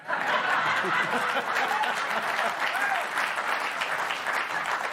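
A studio audience at a late-night comedy talk show claps loudly and steadily for several seconds, a dense continuous wash of applause with a few faint chuckles mixed in.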